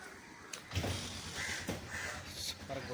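Crows caw several times outdoors at a Hindu temple in Trincomalee, Sri Lanka, short harsh calls spread over a few seconds against a busy open-air background.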